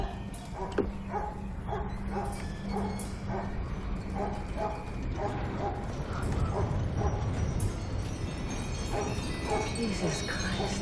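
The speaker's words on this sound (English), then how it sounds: "Don't you mind my dog, Earl?" A dog barks repeatedly in a rapid series of sharp woofs amid a noisy, rumbling background, with some whimpering and mechanical clatter mixed in.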